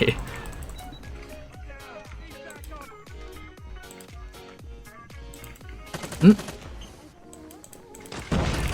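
Rapid gunfire in the video game Call of Duty Mobile, a quick rhythmic string of shots with one sharper blast near the end, heard beneath someone talking.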